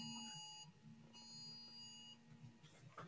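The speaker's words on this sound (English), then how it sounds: "It almost sounded like an emergency alarm or something." Electronic alarm beeping in a repeating pattern during an indoor interview, steady tones with a short break, fairly faint under room noise.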